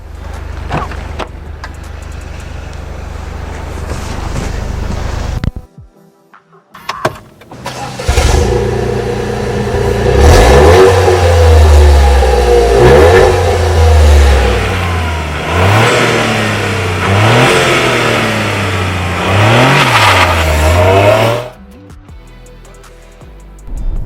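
A Toyota GR Yaris, a road-going WRC rally car, starts up and then revs loudly while driving on a public road. The engine climbs and drops through repeated rising and falling sweeps, close and strong.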